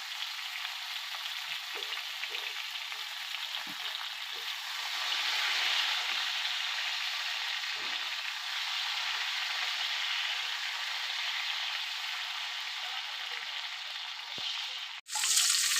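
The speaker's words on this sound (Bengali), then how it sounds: "এবার আমি বেগুনটায় নুন হলুদ মাখিয়ে সুন্দর করে ভেজে নেব" Eggplant pieces coated in salt and turmeric fry in oil with black cumin seeds, a loud steady hiss and sizzle that swells slightly midway, ending in a brief clatter, with no one talking.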